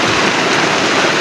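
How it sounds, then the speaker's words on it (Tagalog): Steady, heavy rain falls during the rainy season over muddy grassy ground, a loud continuous hiss that holds evenly throughout with no voices. "hindi natin sure kung kailan hihinto yung ulan na yan"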